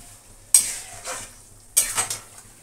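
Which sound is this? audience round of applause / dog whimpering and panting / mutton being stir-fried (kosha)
mutton being stir-fried (kosha)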